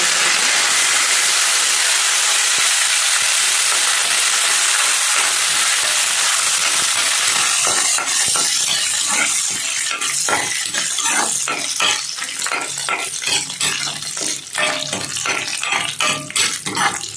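Curry leaves are stripped into a hot pan and fry with a loud, steady sizzle and hiss, followed by a run of sharp crackles and pops near at hand.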